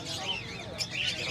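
Caged birds at a pet market, including lutino birds, chirp and tweet in bright, repeated bursts, mixed with soft cooing and busy background chatter.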